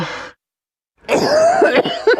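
Someone coughs out in a jungle setting, a short cough, a pause of silence, then a longer rough bout of harsh coughing and throat sounds, close and loud.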